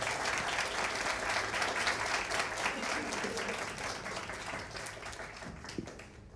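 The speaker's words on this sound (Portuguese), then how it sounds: "Vamos recebê-lo com salva de palmas" Concert audience applauding to welcome a university percussion professor on stage before a marimba ensemble performance, a dense, steady wash of many hands clapping that thins slightly toward the end.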